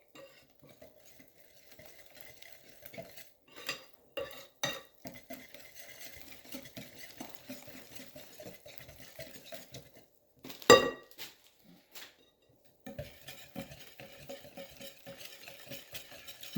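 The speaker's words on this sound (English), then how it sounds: "Mix it well so that all the granules of the flour gets completely submerged in the liquid" A spoon stirs oat and millet flour waffle batter in a bowl, giving a steady, close scraping and swishing that runs throughout, with several sharper knocks and clinks against the bowl.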